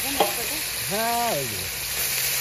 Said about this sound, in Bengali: তো দিয়ে দেবো তেল, মাছ ভাজে নেবার জন্য।